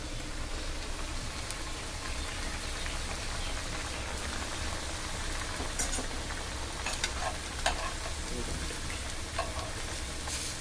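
Cabbage vada frying in hot oil: a steady, dense sizzle and crackle that stays loud and even throughout, with small pops scattered on top.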